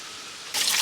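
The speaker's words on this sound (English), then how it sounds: "Water's like coming through the cracks there and then just flowing down, making a little stream." Rainwater trickles through cracks in rock after heavy rain, a soft steady hiss that suddenly grows louder and brighter partway through, as if the flow is heard up close.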